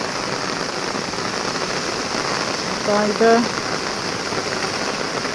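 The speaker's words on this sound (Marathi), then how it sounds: "पाऊस सतत चालू असल्या कारणाने काहीच करू शकत नाही" Steady, continuous rain falling during a July river flood, a constant hiss filling the whole stretch, with someone speaking briefly partway through.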